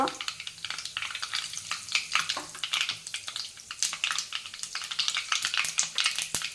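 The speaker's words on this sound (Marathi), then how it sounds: "मोहरी तुडतुडली त्यानंतर आपल्याला त्याच्यामध्ये जिरे टाकायचं आहे त्यानंतर हिंग" Mustard seeds, cumin and asafoetida sizzle and crackle in hot oil, a dense, steady frying hiss broken by quick pops, close and continuous with no talking.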